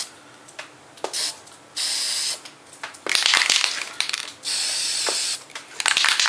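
An aerosol spray paint can applies yellow paint to a model in several bursts of hissing spray, separated by the rattle and clicks of the can being handled, all close and without speech.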